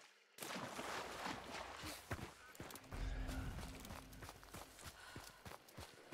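Horse hooves clop irregularly over a rumbling background, with scattered thuds and bursts of game-like noise.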